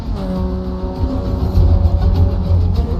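Formula 4 race cars at a European Championship round at the Italian Grand Prix pull out onto the track, their engines a loud, close, droning whine that swells and revs as several cars pass together.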